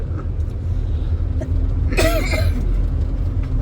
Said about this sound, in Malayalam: ഓ പ്രകമ്പനം, ചുമയുടെ പ്രകമ്പനം